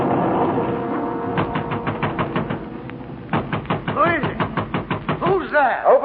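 Door knocking effect in a radio drama set during the French Revolution, a series of sharp rhythmic raps repeated in bursts over background music, growing louder and denser toward the end.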